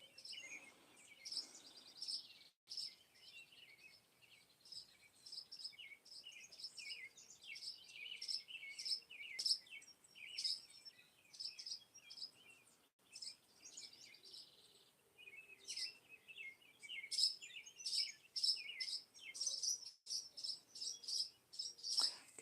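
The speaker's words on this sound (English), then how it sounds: "Sit out here and listen to the birds sing" Birds chirping and singing steadily outdoors, several bright overlapping calls at a moderate distance in an otherwise quiet setting, with no talking.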